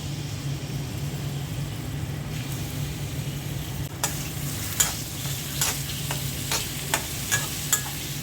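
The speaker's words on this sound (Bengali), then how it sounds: "এখন চিংড়ি মাছটা ভুনা করব, তেল দিয়ে দিচ্ছি" Prawns frying in a small amount of oil in a home kitchen pan, a steady close sizzle over a low hum, joined halfway through by a string of sharp scraping clicks from a utensil against the pan.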